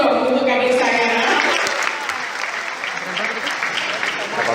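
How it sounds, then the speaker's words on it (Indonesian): Seminar audience applauding loudly at a national transportation engineering seminar, a dense burst of clapping that fades slightly, with a speaker's voice over it at the start. "Aplaus dong untuk adik saya."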